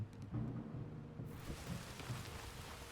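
Steady rain falls at night in Red Dead Redemption II, a broad continuous hiss that thickens after a moment, with low rumbling underneath and no voices.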